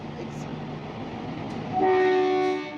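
The Kalka-Shimla toy train pulls away in winter with a low rolling rumble, then a loud horn blast sounds near the end and fades.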